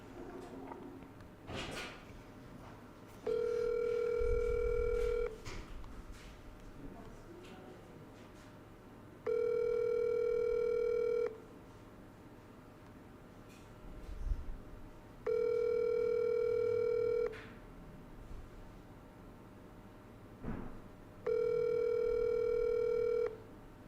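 An outgoing telephone call rings through the line while waiting for an answer: four long, steady electronic ringback tones, each about two seconds, spaced roughly six seconds apart, clear and alone with faint room noise between them.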